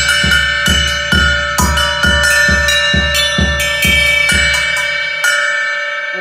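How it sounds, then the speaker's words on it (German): Drum kit cymbals played as a solo, a series of bright, ringing strikes at a steady rhythm with long bell-like sustain layering over each other, loud and close with no talk. "Wenn ich jetzt zum Beispiel ein Solo kreieren würde, wo ich jetzt mit diesen Becken spiele, dann kann es zum Beispiel so klingen, so."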